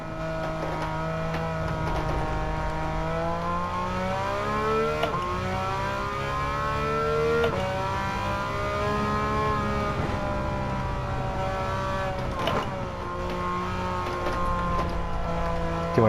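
Gran Turismo 7 race car engine, running with a limited-slip differential setup, held under throttle through a corner, loud and continuous, pitch dipping and climbing with brief shift-like breaks around five, seven and twelve seconds.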